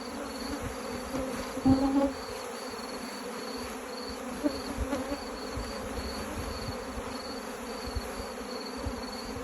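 A steady, dense buzz of many honeybees fills the clip continuously, with a couple of brief louder swells as individual bees pass close by.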